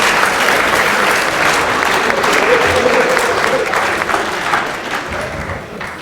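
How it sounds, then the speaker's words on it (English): Audience applause in a physics lecture hall, a sustained burst of clapping from many hands that swells and then gradually tapers off. "Can we have a round of applause for our planet?"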